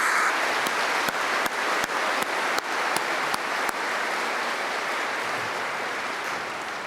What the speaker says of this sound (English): Now please join me in a round of applause thanking these individuals.